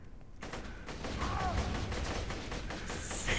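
A gun loaded with explosive bullets fires in the shooter game Borderlands 2: a rapid, dense burst of crackling shots with blasts, close and loud, running almost continuously after a short quiet start.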